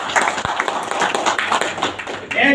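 An audience at a principal's conference poem recital claps, uneven bursts of hand claps rising and falling, with a voice speaking over the clapping.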